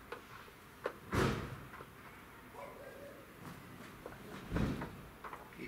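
Doors on a Honda CBR 600 workshop scene being slammed shut; two sharp, heavy thuds a few seconds apart stand out against a quiet background, with faint small knocks between them and no talk.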